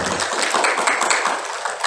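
Dense, steady applause fills a gathering at the fifth anniversary celebration of Suara Owo Nias: a continuous wash of many hands clapping at an even level, with no voices over it.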